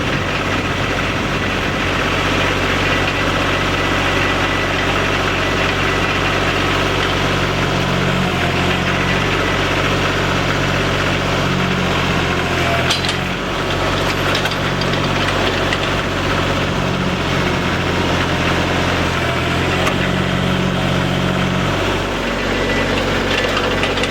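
A tractor engine drives a post hole digger for pole barn holes, a loud, constant mid-to-low rumble with slight load changes and knocking throughout, no voices.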